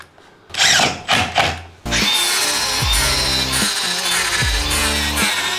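A power drill drives screws into a plywood folding workbench: a few short loud whirring bursts, then a sustained whine of the screw biting into the wood, with pitch dips as it tightens, close by and without speech.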